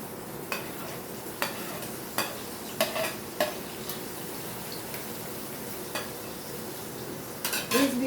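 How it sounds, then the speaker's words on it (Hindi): Onions frying with cumin in a pan, stirred as they cook, giving a steady low sizzle with several sharp utensil clicks and scrapes against the pan scattered throughout. "अब इसमें डालेंगे हम प्याज।"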